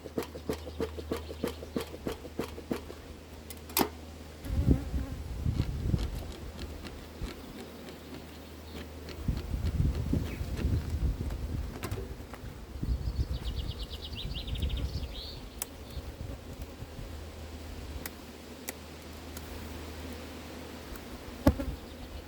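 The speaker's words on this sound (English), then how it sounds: "This hive it's full of bees" Honey bees hum steadily inside a hive that is packed full of them, a constant close buzz with intermittent louder low rumbling bursts and occasional sharp knocks.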